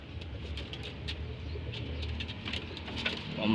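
Soft pigeon coos with a low murmuring quality, repeated over steady outdoor background noise, moderately close.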